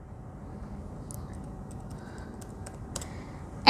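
Code being typed on a computer keyboard in short, uneven bursts of key clicks, close but soft, ending in a louder clatter of keystrokes, with no voices.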